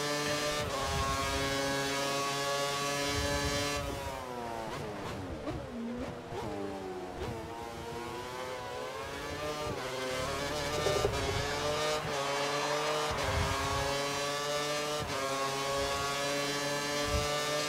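Formula 1 race car engine in the F1 2013 video game, a high-pitched screaming engine revving up and down through gear shifts, loud and continuous with sweeping pitch changes.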